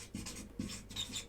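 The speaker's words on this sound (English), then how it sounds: "I'm going to write down here a bonus." A pen scratching out a short handwritten note, a few quick strokes close by, soft and alone with no talk.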